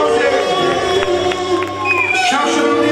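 Party crowd at an 18th birthday celebration clapping and cheering, a dense roar of many hands and voices close by, with music and a loud announcer's voice running over it throughout.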